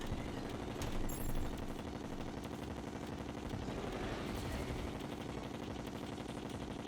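Rapid, continuous weapon fire from the video game Terraria during a Master Mode boss fight, a dense rattling barrage of shots layered with game effects and held at a steady loudness throughout.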